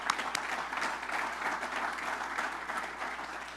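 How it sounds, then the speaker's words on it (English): An audience at a university baseball coach introduction event applauds steadily, a soft, even patter of many hands heard at a distance throughout. "Let's give a round of applause for that."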